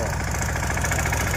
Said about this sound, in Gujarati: હા જો રાજુભાઈ ટ્રેક્ટર હાથી આકે છે સીડામાં